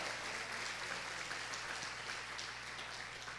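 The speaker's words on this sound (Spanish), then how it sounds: "Dale un aplauso fuerte al Señor Jesús." A congregation at a family church service claps together in a continuous patter, faint and distant beneath a low room hum, with no voices over it.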